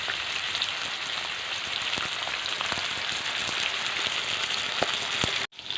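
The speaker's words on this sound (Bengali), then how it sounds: "আমি তো কড়াইতে মাছ ভাজা বসিয়েছি" Rohu fish fries in oil in a kadai with a steady, close hiss and scattered crackling pops that continue without pause until a brief cutoff near the end.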